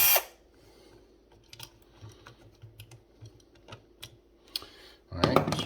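A power drill whirs in two short bursts while removing long light-switch screws, one at the start and one at the end, with scattered clicks and taps in the quieter stretch between.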